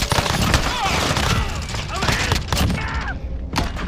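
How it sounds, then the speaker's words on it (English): Dense game combat from Modern Warfare Warzone, a loud continuous wash of gunfire and booming impacts from a precision airstrike, with scattered shots and voices talking underneath throughout. "Precision airstrike, ready on your mark."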